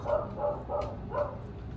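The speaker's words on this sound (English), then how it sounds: "you can probably hear my dog upstairs." A dog barks upstairs in a house, muffled and distant, with four evenly spaced woofs and then a quieter pause.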